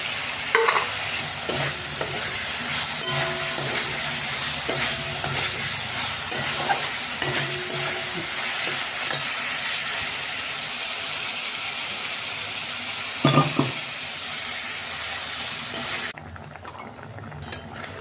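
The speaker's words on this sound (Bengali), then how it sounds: "মশলাটা বেশ কষানো হয়ে গেল। এবারে আলুগুলো দিয়ে দিই।" Spice paste and potatoes frying in a pan for kanchkola kofta curry, with a loud continuous sizzle and repeated spatula scraping throughout and a brief clatter near the end before it quiets.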